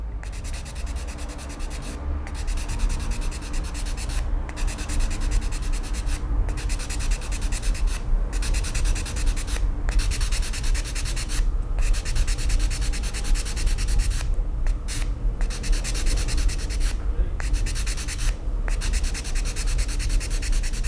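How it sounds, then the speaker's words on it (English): Steady, gritty rubbing of sandpaper against a plastic model part, continuous and close, with brief pauses between strokes. "I'll continue sanding this until the plastic is totally flat."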